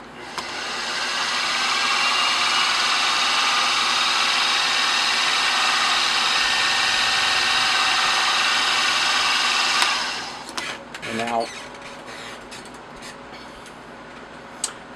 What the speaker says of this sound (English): So let's get that center drilled.